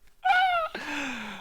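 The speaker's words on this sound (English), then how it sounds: "Oh, the cats are fighting." Cats fighting give a sharp, rising yowl followed by a long, drawn-out growling wail, close and loud with no talking.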